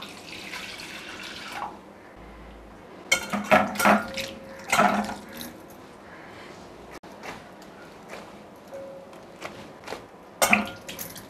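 Plain water splashes and trickles in a home kitchen as it is poured onto flour on a cleaned counter for kneading modak dough, in a few short bursts between quiet stretches.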